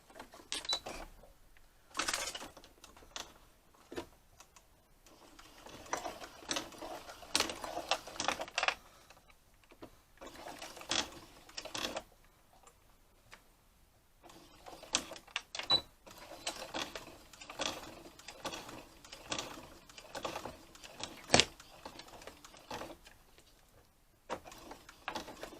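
Sewing machine stitching a lilac messenger bag at a long stitch length, running in several bursts of rapid mechanical clatter separated by short quiet pauses, close and moderately loud with no talking.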